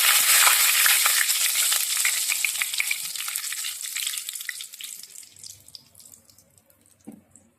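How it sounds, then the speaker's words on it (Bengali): Bay leaves, cinnamon, cardamom and cloves hit hot oil for an egg malai curry and sizzle loudly, a bright hiss that steadily fades over several seconds, ending with a light clink. "লবঙ্গ ফোড়ন দিয়ে দিলাম।"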